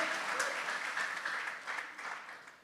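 A church congregation clapping hands together, a dense, steady round of applause that carries on throughout at moderate level, slightly softer toward the end.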